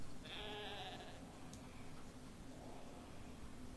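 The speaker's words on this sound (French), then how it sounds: "Que des moutons, là." A sheep in the survival video game Project Zomboid gives one clear wavering bleat near the start, then quieter farm ambience follows; fairly faint overall, no talk.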